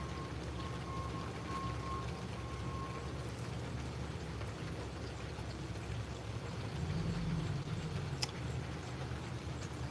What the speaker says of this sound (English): we got some nice rain going on